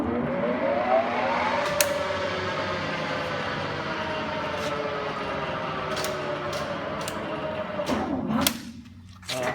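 A 30x160 Mazak lathe running through its gears gives a steady, fairly loud mechanical drone with a tonal whine and a few knocks. It drops away sharply near the end.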